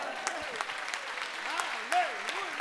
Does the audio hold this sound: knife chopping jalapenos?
no